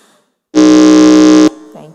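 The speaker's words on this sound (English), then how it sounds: "can we hear the sound of your buzzer?" A single loud, harsh electronic quiz buzzer sounds for about a second at a school quiz semi-final, then cuts off abruptly, followed by a faint voice.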